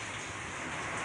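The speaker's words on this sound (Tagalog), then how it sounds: "Ang lakas ng hangin, ang lakas ng ulan." Heavy rain and strong wind from Typhoon Ulysses roar outside, a steady, dense, loud wash of noise with no pauses.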